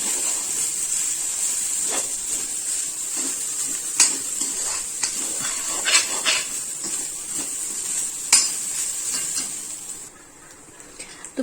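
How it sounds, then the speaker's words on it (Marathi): Freshly grated coconut sizzles steadily in a pan while a spoon stirs it, with small scraping clicks over a continuous hiss, close and alone before the frying fades near the end. "ओलं खोबरं. यालाही अगदी व्यवस्थित आपल्याला फ्राय करून घ्यायचं आहे."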